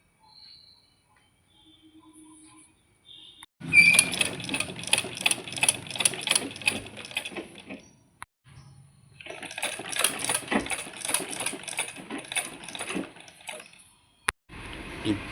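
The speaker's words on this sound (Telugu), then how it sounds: "ఇప్పుడు మూడవ కుట్టు సుత వేస్తున్నాను" A sewing machine stitches a pillow cover in two long running bursts of rapid, even needle rattle, separated by a pause, with quiet handling sounds before and a brief click near the end.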